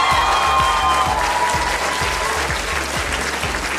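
Loud, dense applause from an audience at an anniversary dance show fills the whole stretch, steady and close, with a rhythmic thumping beat running underneath.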